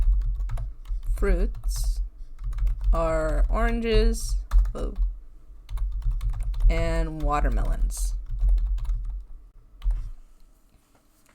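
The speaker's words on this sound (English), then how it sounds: "you could click Enter again, and you could keep typing" Computer keyboard typing clatters steadily in the background as a person speaks over it, the keystrokes continuing throughout under the talk.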